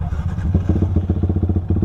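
A Yamaha R15 V3 sport motorcycle, bored to 240cc, starts and chugs close by with a rapid, even putter, running loudly for a couple of seconds.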